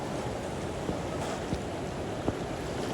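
Monsoon flood water rushes through a river in a broad, steady roar, a continuous churning wash heard close with a few faint knocks, no talk.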